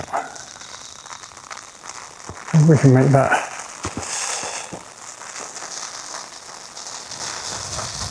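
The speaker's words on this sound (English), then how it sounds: "there's definitely a bit of rain" A light rain shower falls outdoors during a painting session, making a steady, soft, hissing patter throughout. A person briefly speaks partway through.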